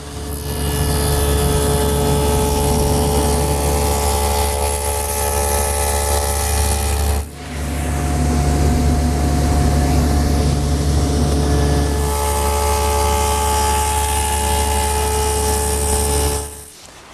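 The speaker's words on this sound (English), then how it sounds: "I'll do that on the table saw." A table saw cuts a tongue on the end of a large panel for a chest of drawers top. The motor gives a loud, steady whine that dips briefly partway through and then cuts off near the end.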